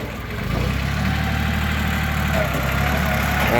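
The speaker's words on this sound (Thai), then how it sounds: "เครื่องยนต์สามสูบ เครื่องยนต์ไดเล็กนะครับเสียงนิ่มๆครับ" A Yanmar 16-horsepower three-cylinder diesel tractor engine idles close by, a steady, low, soft rumble with a faint knocking pulse.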